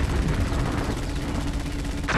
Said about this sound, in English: Base, I'm taking hostile fire.